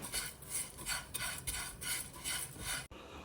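Crispy fried snack pieces get stirred around a pan. They make rhythmic rattling, scraping sweeps, close and moderately loud, which stop abruptly near the end.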